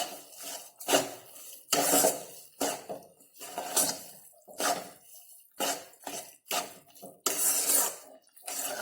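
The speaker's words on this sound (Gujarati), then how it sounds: "આપણે આ રીતે તેને મિક્સ કરી અને હલાવતા રહીશું" Spoon stirring sugar syrup in a pan for sweet potato halwa, giving a series of short, close scraping and clinking strokes at an uneven rhythm with brief pauses, no talking.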